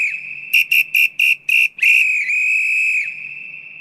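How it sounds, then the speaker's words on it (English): A referee's whistle blown in five quick sharp blasts followed by one long sustained shrill blast that fades out, loud and close with nothing else around it. "I threw my flag and I blew my whistle like a maniac"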